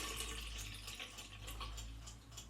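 Plain water used as a stock bath is poured into a container for home film developing, giving a soft, steady splashing trickle that is faint and heard alone.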